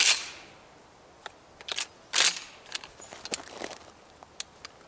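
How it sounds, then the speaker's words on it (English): A Mossberg 590 20-inch shotgun with Magpul furniture fired indoors with Remington reduced recoil double-aught buckshot: a loud blast at the start, then scattered sharp clicks, clatter and a second burst of handling noise. "I'm going to shoot it with this Remington reduced recoil double-aught buck and just see how it patterns"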